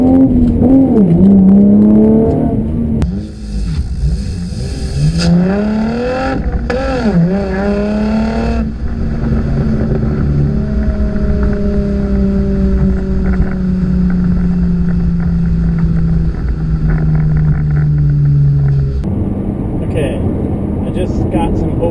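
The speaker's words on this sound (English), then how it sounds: "lay off the gas so you can kind of hear the backfiring and gurgling sound it makes, which is kind of nice when slowing down" A manual-transmission 2015 Camaro 1LT with a dual-mode performance exhaust, loud and close, revs and then slows off the gas, its exhaust crackling, popping and gurgling as the engine drone falls steadily in pitch.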